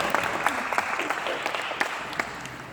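Audience at a medium's live reading event gives a light round of applause, a soft wash of scattered claps with some louder individual hits, moderately distant and steady.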